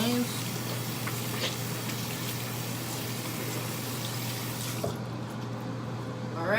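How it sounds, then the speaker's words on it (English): Water runs steadily from a tap as hands are washed beneath it, a continuous close splashing hiss that cuts off near the end. "I'm gonna wash my hands first, because if you eat like anything, you don't want no sugar or dirt on your hands"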